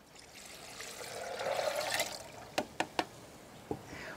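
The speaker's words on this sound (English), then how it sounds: "So 2 cups of soaked nuts in my blender, and then 5 cups of water." Water pours into a blender holding soaked almonds, a soft trickling stream that swells and fades, followed by a few sharp clinks near the end.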